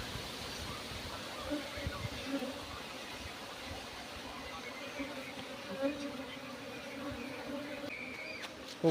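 Bees swarm around a bee trap outdoors, their faint, steady buzzing and hum carrying under breezy background noise, with a few louder passes close by.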